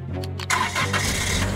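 An ice cream truck engine in a cartoon cranks over and catches, the starter churning briefly before the motor settles into a low, steady idle close by.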